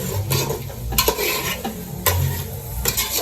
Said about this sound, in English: we just added the pepper and the fresh tomatoes, and then you stir.